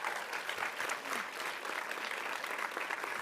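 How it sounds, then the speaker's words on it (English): An audience at a CreativeMornings New York talk gives volunteers a round of applause. It is a continuous, even wash of many hands clapping, heard from a moderate distance and steady throughout with no voices over it. "One more round of applause for our volunteers."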